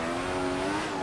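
Formula 1 race car in the F1 2014 racing game at the Brazilian Grand Prix, oversteering with a sustained high tire squeal over the engine's steady whine, heard close and loud for about a second.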